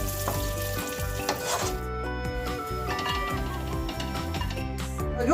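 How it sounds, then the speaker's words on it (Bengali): Cashews and raisins fry in ghee with a close, even sizzle under clinks and stirring scrapes of a utensil against the pan, steady throughout with no voices. "ঘি দিয়ে আমাদের কাজুটা আমি ভেজে নেব আমি কিশমিশটাকেও একটু এর সাথে ভেজে নিচ্ছি"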